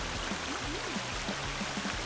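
Steady rushing water from a waterfall in a video game keeps up an even, dense wash of sound throughout, with no speech over it.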